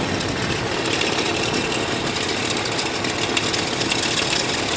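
Engine of a GM OBS Chevrolet truck, with a reported engine noise and flickering battery light, running steadily and loudly at close range with a constant rough drone and no clear rise in pitch.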